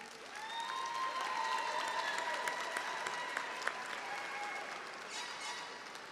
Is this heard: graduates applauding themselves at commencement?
yes